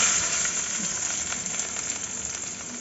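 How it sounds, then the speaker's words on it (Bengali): Long-sliced onions hit hot white oil in a wok, giving a bright, steady sizzle and hiss up close that eases off slightly over a few seconds. "তেলটা গরম হয়ে গেছে, এরপর পেঁয়াজটা দিয়ে দেবো"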